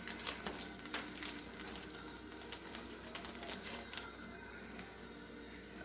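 Seasoned, deveined shrimp cooking in lemon garlic butter in a pan, giving a steady close sizzle with occasional sharper crackles and stirring scrapes throughout.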